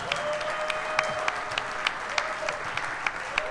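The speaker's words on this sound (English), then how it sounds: "let's give the outlaw a big round of applause for everything he's done for us this season" Audience at a Green Bay Packers clubhouse live event gives a round of applause, continuous crowd clapping with a few sharper, closer claps standing out in an uneven rhythm and a faint whistle-like tone running underneath.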